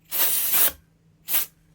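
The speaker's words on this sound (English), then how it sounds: "quick spray in the trigger box." Two close hissing bursts of silicone spray from an almost empty can go into the trigger box of a Tokyo Marui MWS airsoft rifle, a longer burst followed by a short one.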